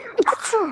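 One short, sharp sneeze from a person at close range during a podcast-style conversation, a quick burst followed by a brief breathy trail.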